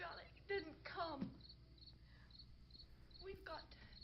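Crickets chirping at night, a faint steady high trill running under short bursts of talking.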